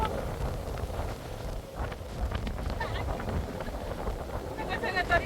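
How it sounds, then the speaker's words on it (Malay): Strong wind buffets the microphone outdoors in Vietnam, a continuous rumbling roar with gusty swells throughout, and a voice speaks faintly underneath. "Sangat-sangat kuat angin dia."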